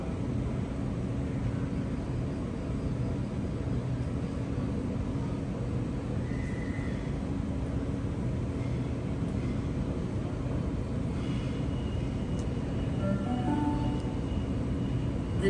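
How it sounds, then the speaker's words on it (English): A Sydney Trains Leppington service via Granville pulls into platform 19 at Central Station, a steady, loud rumble throughout with a couple of brief high brake squeals near the end. "the train that's about to arrive into platform 19 is a Leppington service via Granville"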